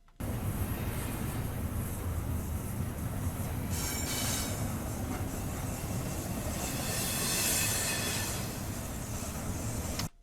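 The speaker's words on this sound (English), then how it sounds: "let's go on to a different kind of sound effect, which is a train" A train rumbles steadily past, with continuous rolling wheel noise, rhythmic clatter, and occasional high metallic squeals, loud and close throughout.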